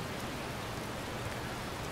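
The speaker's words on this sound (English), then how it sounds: "we're just going to turn off the EMB rain because I don't like it" Steady rain from an ENB weather effect in Skyrim Special Edition, a dense, even hiss of falling drops that holds constant throughout with no voices.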